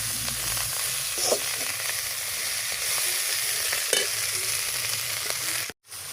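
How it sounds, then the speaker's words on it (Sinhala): Kangkung (water spinach) sizzling steadily in hot oil in a pan, a loud continuous fry with occasional stirring scrapes and clatters of the utensil, no talking. "ඊට පස්සේ මම දැන් කංකුන් ටික දානවා. කංකුන් ටික දාලා හොඳට මේක කලවම් කරගන්න."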